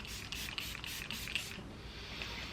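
Makeup setting spray misted from a can in several quick hissing bursts, close and fairly loud, with no voices.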